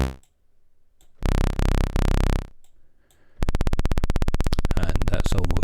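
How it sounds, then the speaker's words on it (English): A Thor analog synthesizer tone drops through lower pitches to nearly sub-audio rate until it becomes a rapid, even train of individual clicks from the oscillator, steady and loud. "that's almost sub-audio rate. You can hear in each individual click of the oscillator"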